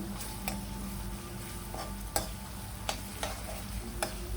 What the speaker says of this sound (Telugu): అల్లం వెల్లుల్లి పేస్ట్ అండ్ పసుపు మంచి పచ్చివాసన వెళ్ళేంత వరకు కొంచెం ఇట్లా ఆయిల్లో ఫ్రై చేసుకోవాలి